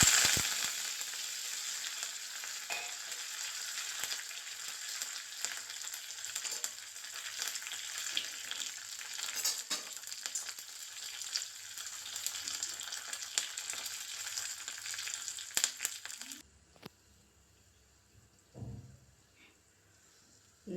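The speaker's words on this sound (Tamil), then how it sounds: "கடுகு பொரிஞ்சோன்னா கருவேப்பிலையும் கொஞ்சம் சின்ன வெங்காயம் ரெண்டு சின்ன வெங்காயம் எண்ணெயில் போடணும்" Mustard seeds, curry leaves and small shallots fry in hot oil for an ash gourd curd pachadi, giving a loud, steady sizzle that cuts off abruptly, leaving faint scrapes and a soft clatter.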